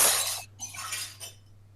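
Glass smashing during a live show, a loud broadband crash at the start that breaks into a scatter of shards and tinkling bursts, then trailing off into quiet, with a steady low hum underneath.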